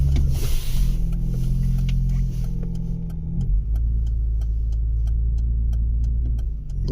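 A 2007 Chevrolet Trailblazer with a 4.2L engine and locked-up brakes strains under heavy throttle, a loud steady low engine drone with a sharp tick-like clicking running through the second half.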